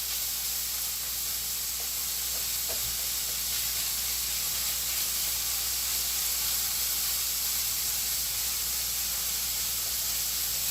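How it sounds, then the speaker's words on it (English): Bacon frying in a pan gives off a steady, even sizzling hiss that holds at one level throughout, close and without pauses or voices. "Bacon's getting nice and sizzly"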